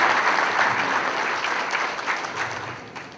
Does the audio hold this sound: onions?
no